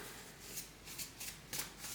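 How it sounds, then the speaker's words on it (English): Tarot cards being shuffled, a few soft quick riffles in separate bursts, close and quiet, with no talking. "This is my last shuffle."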